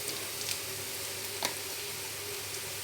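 Onions frying with chili powder in a pan for egg bhurji, a steady bright sizzle with a few soft stirring clicks, close and uninterrupted by speech.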